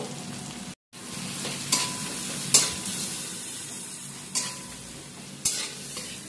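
Turmeric and chili powder frying together in a pan for a Bombay duck patturi produce a steady sizzle, broken by a brief silence and then repeated spoon scrapes and stirs at a close, moderate level.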